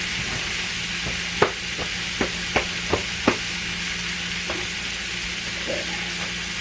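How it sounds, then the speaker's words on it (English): Ground hamburger meat sizzles steadily in a frying pan while a wooden spoon stirs it, giving several sharp scrapes and taps over the hiss; no one speaks. "Stir it up. You gotta make sure you stir it quite a bit."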